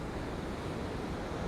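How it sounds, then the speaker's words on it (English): Ocean waves roll onto the beach at Cala Sant Vicenç, Mallorca, making a loud, continuous rushing wash mixed with heavy wind buffeting the microphone, with no voices. "you can see the waves just rolling in here"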